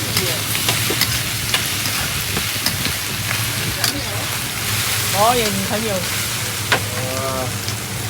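Stir-frying at a Singapore hawker stall making squid and meatball noodles gives a steady, busy sizzle with scattered clanks, while people chat nearby and a brief bird-like chirp rises near the end.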